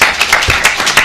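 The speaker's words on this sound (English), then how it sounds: "Round of applause here." An audience at a panel event on producing branded entertainment for film and TV claps, a dense continuous patter of many hands with a few louder bursts, filling the room.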